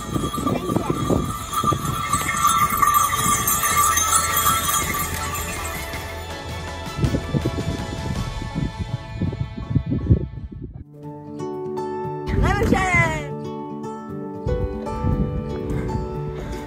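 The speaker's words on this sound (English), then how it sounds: "What's coming? Horses!" Horses clip-clop past on a mountain trail on the Everest Base Camp trek in Nepal, hooves loud and close, while people talk excitedly over them.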